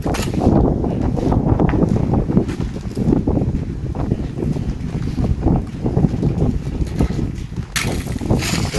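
Dry wind blowing steadily around a rural home, buffeting the microphone with continuous low rumbling gusts for the whole stretch, with no voices.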